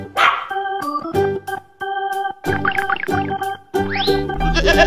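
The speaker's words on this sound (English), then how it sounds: "Sheep." Sheep bleating from a farm and zoo animal sound compilation, a few loud, wavering calls alone with short pauses between them, no talk.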